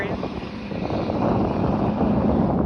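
A helicopter flies overhead outdoors in a public area, a broad rumbling roar of engine and rotor that swells slightly louder over a few seconds, with people talking faintly underneath.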